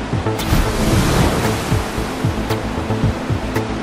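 Rushing whitewater roars continuously around a boat on a river in Venezuela, loud and close, with surging turbulent water and some wind buffeting the microphone.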